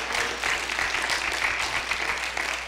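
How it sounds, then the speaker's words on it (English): A Pentecostal church congregation claps hands in a loud, continuous wash of applause filling the room, dense and steady throughout. "Clap your hands."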